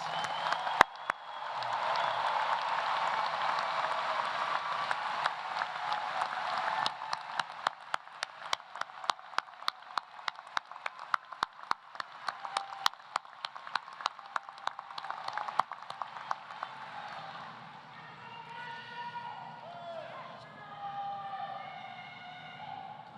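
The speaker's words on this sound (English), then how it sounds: "Let's give our graduates one final round of applause." Applause from the crowd at a University of Cincinnati summer commencement ceremony in a large venue. A broad wash of clapping gives way to sharp individual claps, then it fades as a sustained tonal sound rises at the end.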